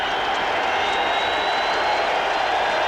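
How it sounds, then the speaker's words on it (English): A football stadium crowd at a cold 1990 Raiders at Vikings game sends up a steady, broad roar of cheering and applause that holds evenly for a few seconds with no clear break. "Crowd for the first time makes some noise."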